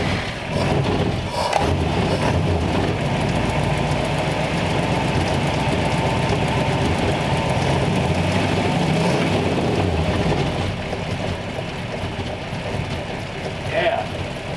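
A 1934 Ford Tudor sedan engine, just fitted with a new fuel pump, runs with a steady, continuous rumble at close range while voices talk over it.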